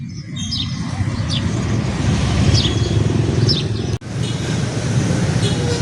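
Steady traffic of motorcycles and tuk-tuks crossing a bridge in Kampot, Cambodia, a continuous low engine rumble with birds chirping over it and a brief dropout near the end.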